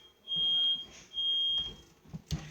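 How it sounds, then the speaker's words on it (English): A home fire alarm sounds in a room with low ceilings, giving two long, shrill electronic beeps that are fairly faint, followed by a few soft knocks. "Y'all hear my fire alarm going off?"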